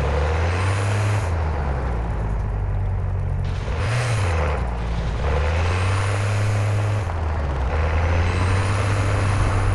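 A car in the Warzone Mobile shooter game drives with a loud, continuous engine drone that repeatedly rises and falls in pitch as it revs and shifts, with no voices.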